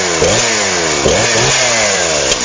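A chainsaw runs loud and close, its engine revving up and down in repeated surges with a harsh, buzzing roar throughout.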